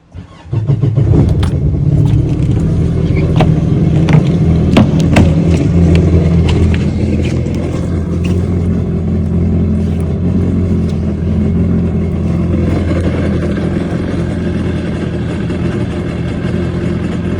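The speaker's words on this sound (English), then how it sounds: "In this step, you'll turn the motor on" A Yamaha FSH 190/195 jet boat engine starts up and settles into a steady, loud running drone close by, with a few sharp clanks early on and no talking.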